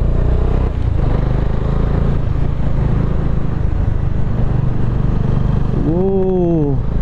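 A Bajaj Dominar 400 motorcycle rides a winding ghat road in South India with a steady, loud engine drone and wind rush throughout, and a rising and falling tonal call near the end.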